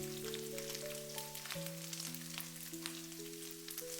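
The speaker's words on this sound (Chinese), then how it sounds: "大约翻炒2分钟左右，五花肉慢慢的炒成金黄色，同时渗透出了很多的油脂。" Pork belly stir-fried in a wok until golden and rendering plenty of fat: a steady, close sizzle and frying hiss that goes on throughout, with sustained musical tones underneath and no talk.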